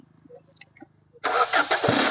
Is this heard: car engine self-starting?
yes